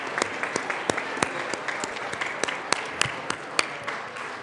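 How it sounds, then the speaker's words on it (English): Legislators in the Colorado House chamber give guests a round of applause, scattered sharp claps in an irregular rhythm over a steady crowd wash, moderately loud and heard without talk. "If you would stand up and give them applause."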